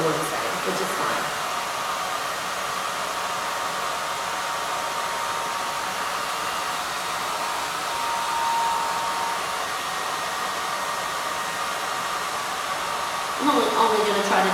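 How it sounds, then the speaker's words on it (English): A small single-setting hair dryer blows on hot with a steady, close whoosh and a faint high whine that runs evenly throughout and shifts slightly near the end. "that way you can see it without listening to a hair dryer for 15 minutes"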